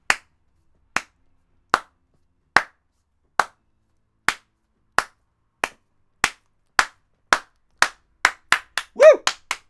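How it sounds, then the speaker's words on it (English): Slow, deliberate hand claps, about fourteen crisp individual claps that start widely spaced and gradually speed up toward the end, followed by a short vocal whoop, with no talking underneath. "Slow clap"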